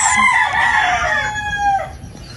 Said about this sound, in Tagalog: Sobrang daming manok dito.